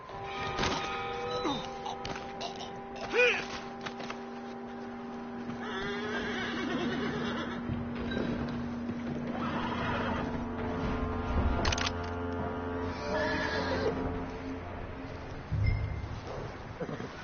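A horse whinnies several times in Red Dead Redemption, the neighs rising over a soft game ambience with occasional hoof clatter and a few quiet voices.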